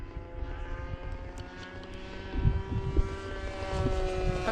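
A Great Planes Ultra Stick RC plane with an OS GT15 gas engine flies overhead, its buzzing propeller drone steady and fairly loud, swelling slightly as it passes through a slow, dropping approach.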